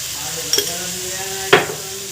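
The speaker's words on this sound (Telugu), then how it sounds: "ఆయిల్లో అయితే రొయ్యలు ఫ్రై అయ్యి అల్లం పేస్ట్ అలాగే కొంచెం పసుపు" Dried shrimp fry in oil with ginger paste and turmeric, giving a steady close sizzle broken by two sharp scrapes of a stirring utensil against the pan.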